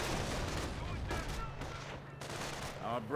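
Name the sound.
incendiary mortar shell landing in the Company of Heroes video game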